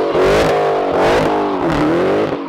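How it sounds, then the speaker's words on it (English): A Dodge Challenger SRT Hellcat Redeye revs hard during burnouts, the engine note swelling and dropping in repeated rising pulls. It sounds loud and close, with no voices over it. "Let's go do some burnouts."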